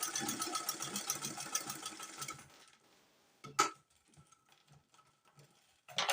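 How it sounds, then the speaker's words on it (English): A sewing machine stitching a fabric sleeve runs in a steady, fast mechanical chatter for a couple of seconds, then stops, leaving a quiet room with a few soft clicks and handling knocks. "You make sure that your sewing is straight."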